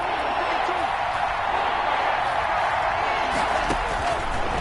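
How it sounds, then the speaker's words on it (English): Steady stadium crowd noise from an American football video game, a broad continuous roar of cheering with faint scattered claps, sustained at an even level throughout. "The crowd getting into it as we come up on a big third down."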